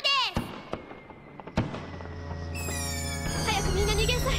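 Fireworks booming during a comedic wrestler-style entrance announcement: two sharp, deep thuds about a second apart, followed by a sustained, swelling tonal roar with bright overtones.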